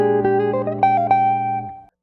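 A jazz guitar line, a quick run of clean single notes over a dominant chord, played alone and close, ending in a held note before a brief silence.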